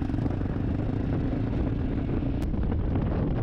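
Strong, steady wind roars and buffets the microphone, a dense low rumble that never lets up.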